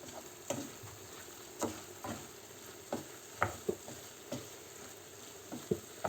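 A spoon stirs cake mixture in a pan, giving soft rhythmic scrapes and clicks about once a second over a quiet background hiss.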